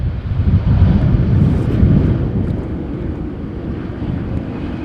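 An airliner arriving on runway 18R, the Polderbaan at Amsterdam Schiphol, after a storm, heard as a loud low rumbling roar swelling and then easing, heavily mixed with buffeting wind noise on the microphone.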